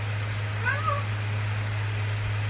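A single short cat meow, close and clear, over a constant low electrical hum.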